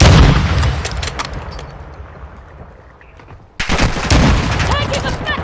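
Rapid bursts of rifle and automatic gunfire with booms in a Call of Duty Modern Warfare 2 multiplayer match, loud and dense at first, thinning out, then a fresh volley; players talk over it.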